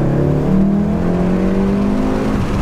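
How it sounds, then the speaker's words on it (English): A 2017 Volkswagen Golf R all-wheel-drive automatic accelerates hard, its engine note climbing steadily and loudly in rising harmonic bands, heard from inside the car with no talk over it. "So luckily with this car, I can kind of speed off quickly."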